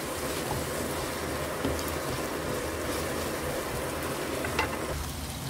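Food fries steadily in a pan with a constant close sizzle and crackle, a couple of faint clicks of stirring rising briefly above the continuous hiss.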